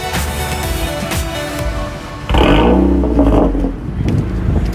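Honda Civic fitted with a Type R kit cranking and catching, a sharp jump in engine roar partway through that then settles into a steady, close, loud idle with some clatter.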